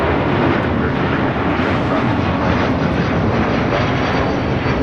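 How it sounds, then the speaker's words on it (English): A Delta Airlines Airbus A330neo, flight 7 bound for Tokyo Haneda, takes off from LAX with a loud, steady broadband engine roar that holds constant and unbroken throughout, with no voices. "This is Delta Airlines Flight 7 taking off to Tokyo Haneda on the A330neo."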